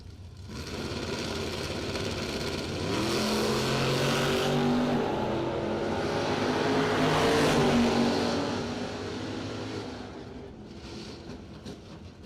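Drag race cars launch and race down the strip at a Flicker Promotions Spring Stampede event, a loud sustained engine roar swelling and rising in pitch before gradually fading toward the end.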